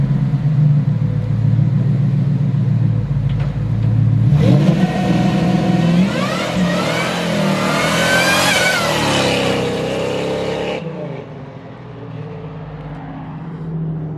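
1968 Dodge Coronet with a stock motor and 4R100 transmission, revving hard on a two-step: a close, loud engine rumble climbs into a sustained high-rpm scream for several seconds, then cuts back to a low idle.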